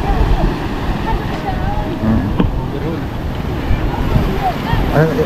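A small boat's engine runs steadily near the microphone with wind and water noise around it, and voices come and go over the drone.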